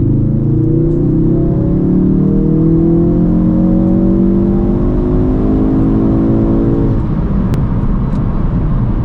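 A Ford Focus RS engine at full throttle from 2,500 RPM, its revving pitch climbing steadily for several seconds before dropping off, heard close up with no voices.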